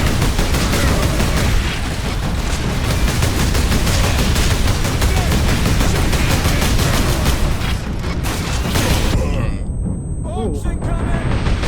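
Dense, continuous gunfire and mortar blasts roar through a Space Marine battle, with overlapping rapid shots and booms sustained at high volume, thinning into scattered bursts near the end.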